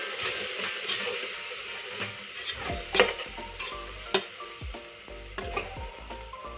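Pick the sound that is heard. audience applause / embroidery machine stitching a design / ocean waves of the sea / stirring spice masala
stirring spice masala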